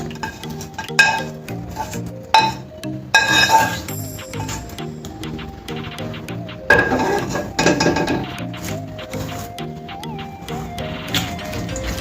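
A spoon stirs cooked rice into a raw mango mixture in a pan with the stove switched off, making mango pulihora. Irregular metallic clinks and scrapes come up close and fairly loud, in uneven bursts with quieter pauses between them.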